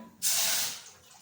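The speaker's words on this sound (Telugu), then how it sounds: "ఫస్ట్ ఏం చేయాలంటే వాటర్ వేసుకోవాలి." A brief splash of water poured into a pot for cooking Maggi noodles, starting abruptly and tapering off within a second.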